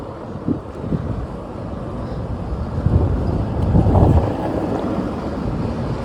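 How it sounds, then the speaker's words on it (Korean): Wind gusting across the Camino de Santiago pilgrimage trail in hot sun, buffeting the microphone in uneven swells that peak midway, with rustling underneath. "그래도 아까보다는 바람이 좀 불어서"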